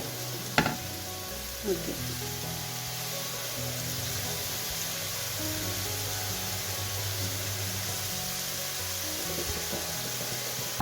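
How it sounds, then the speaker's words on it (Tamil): Onions sizzle and fry in a pan for a fenugreek (vendhaya) curry, giving a steady close hiss. A couple of sharp clatters come early, and a voice speaks one brief word. "இப்போ இந்த வெங்காயம் நல்லா தாளிக்கட்டும், நல்லா பொரிஞ்சு வரட்டும்."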